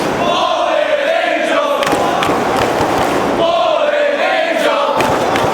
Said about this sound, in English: Crowd showing their support for Daniels.